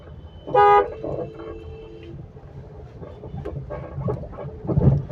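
Road traffic around a car being driven in first gear, with a loud close horn toot near the start, then a steady rumble of engines and further faint honks toward the end.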